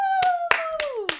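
Four sharp, evenly spaced hand claps ring out close and loud over a sustained, gradually falling tone.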